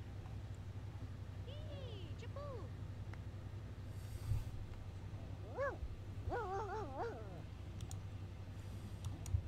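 Dogs in the video game Sims 2 let out rising, wavering whimpers and short yelps in scattered bursts. A steady low hum from the game runs underneath.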